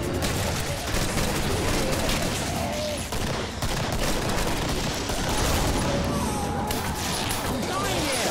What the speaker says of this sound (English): Nice job with the shotgun.